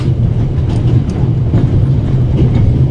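A train in the game The Ravel rolls along its rails with a loud, constant low rumble close by and faint rhythmic clicks from the wheels, with no talking.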